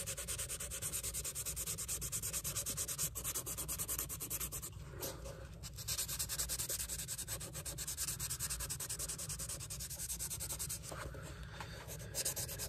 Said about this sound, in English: we're going to take an old sandpaper and gently sand that